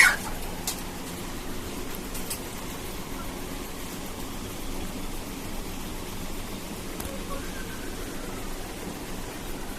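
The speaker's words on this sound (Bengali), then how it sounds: "এইখানে একটা টাইগার মুরগি আছে একটা দেশি আর একটা হাইব্রিড মুরগি দেওয়া হয়েছে" Caged desi and hybrid hens, with a tiger-breed rooster nearby, cluck faintly and intermittently over a steady background hiss on a small cage-system poultry farm.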